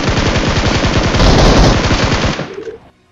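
Rapid automatic gunfire in the mobile battle royale game BGMI, a dense, loud burst of continuous machine-gun fire that runs nearly three seconds before cutting off abruptly into a brief tail.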